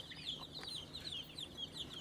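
Turkeys kept alongside guinea fowl call in a steady run of high, repeated squawks and chatter, faint and somewhat distant, with no talking.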